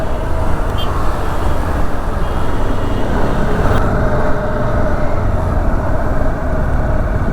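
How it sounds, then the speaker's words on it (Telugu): Road traffic rolls past a Dominar 400 motorcycle on the move: a loud, constant rumble of engines and wind with no pauses and no individual vehicle standing out. "ఈరోజు ఏంది అసలు ఇంత ట్రాఫిక్ ఉన్నాయమ్మా."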